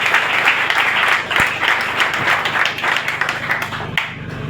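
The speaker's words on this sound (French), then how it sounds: "Applaudissons-nous" Dense, sustained applause from a crowd at an ANC political party gathering, loud and steady with a slight fade near the end and no talk over it.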